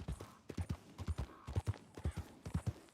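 A horse's hooves clip-clopping at a brisk, steady trot in Red Dead Redemption 2, close rhythmic thuds in quick pairs over several seconds, with a faint background bed.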